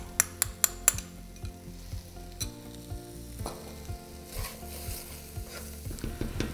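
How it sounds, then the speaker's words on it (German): Tomato paste stirred into browning flour in a pot for braised ox cheeks, a few quick clinks at the start, then rhythmic scraping stirs over a soft sizzle that grows brighter toward the end. "So, jetzt geben wir das Tomatenmark dazu."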